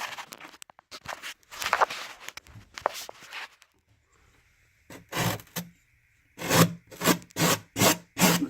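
Scraping across a cement coating on a plywood aquarium, rough rasping strokes up close, an irregular burst first, then a pause and a quicker run of rhythmic scrapes.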